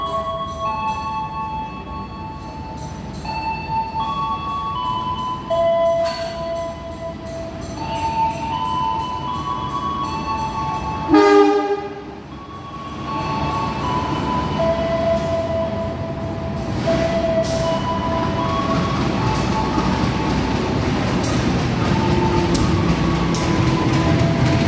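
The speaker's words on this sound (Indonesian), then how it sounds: "kita tunggu aja kereta api Majapahit dari Malang tujuan Jakarta Pasar Senen masuk jalur 1 stasiun Kediri" The Majapahit passenger train from Malang to Jakarta Pasar Senen arriving on track 1 at Kediri station, with rolling wheels, rumble and a brake screech or horn-like tones over a long pass, plus station chimes in the background.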